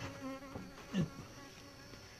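Wild cavity-nesting bees drone and buzz at night outside a closed hive, a steady insect hum with a few closer fly-bys, fairly quiet and with no talk.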